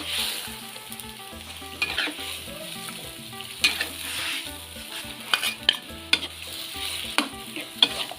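A pot of eel trap bait cooking over heat, seasoned with fish sauce, MSG, fish sauces, oyster sauce and sugar, bubbles and sizzles steadily with scattered sharp clinks and stirring knocks throughout.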